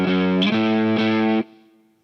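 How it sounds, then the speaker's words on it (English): A distorted electric guitar plays a short rising power-chord phrase from a song's pre-chorus in three loud, sustained steps, then the final chord is cut off and rings out briefly. "then we've got this little ascending power chord phrase."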